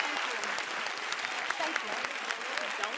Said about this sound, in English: Can we give one more round of applause for Monica?